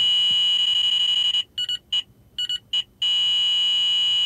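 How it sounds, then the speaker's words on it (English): A Valentine 1 Gen2 radar detector sounds its bogey alert tone, a loud steady electronic beep broken by a quick run of short chirps before the steady tone resumes. "it's going to give you a new bogey alert tone, or a special tone saying, hey, I'm seeing a new signal"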